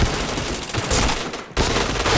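Rapid automatic gunfire in a shooter video game, dense loud bursts with a brief gap before firing resumes.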